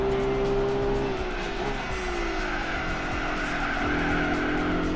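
Race car in the racing game Gran Turismo 4 driving hard with a loud, continuous engine drone and sustained tire squeal as it skids through a corner, engine pitch sliding downward.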